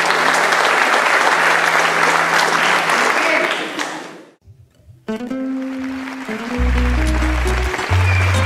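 Audience at a live tribute concert applauding loudly and steadily, then a brief lull before music starts again with the crowd still clapping beneath it.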